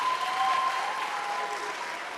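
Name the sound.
audience applause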